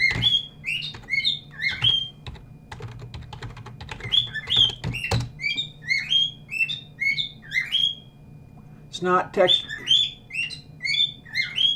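Small pet bird chirping and tweeting in quick bursts throughout, loud and close, with someone talking over it and a brief clatter of keyboard typing midway.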